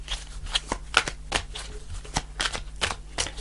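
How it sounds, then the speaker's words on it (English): Tarot cards shuffled in the hands, giving a run of quick crisp riffling flicks and soft slaps, close and fairly loud, with no talking. "I'm going to pull one more card."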